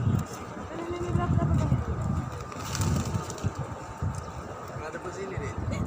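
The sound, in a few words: pigeons cooing near mosque in Medina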